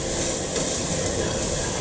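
Black beans and alligator sausage saute in a pot for Cajun beans and rice, giving a steady, even sizzle and hiss that runs unbroken and fairly close, with no voices.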